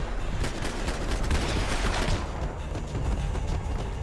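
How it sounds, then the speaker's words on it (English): Dense, rapid gunfire from the Max Payne 3 video game rattles nonstop at close range, a loud continuous fusillade of overlapping shots and booms. "I just shot his earpiece into his face."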